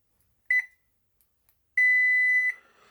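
A multimeter set to buzzer continuity mode while testing a Haier or Gree DC inverter AC transformer gives a short double beep, then after a pause a steady, piercing tone lasting under a second, in a quiet room.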